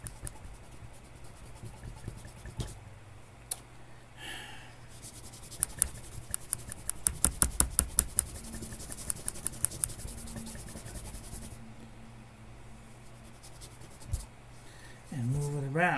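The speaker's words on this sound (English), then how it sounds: "since I have an eraser handy, I can just erase it." An eraser rubs pencil off paper in a fast burst of scratchy back-and-forth strokes, close and dry, with soft talking around it.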